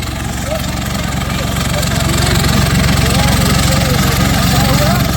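A tractor at a trolley-pulling contest runs hard after its turbo has failed, a loud, steady engine drone with a rapid pulsing throb that swells slightly partway through, with crowd voices underneath.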